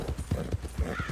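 Hooves of a massive Shire horse clip-clop at a steady trot in the Red Dead Redemption video game, close and distinct, with a few muffled thumps and no talk over them.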